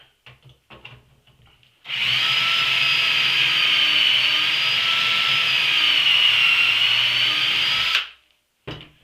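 A power drill drives screws into a wooden tool stand top, one steady whine lasting about six seconds with a clean start and stop, loud and alone with no talking.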